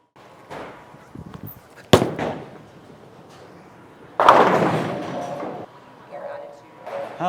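A Brunswick Mindset bowling ball crashes into the pins on a first shot, a loud sudden clatter mid-clip among earlier thuds and room noise, with people talking around it.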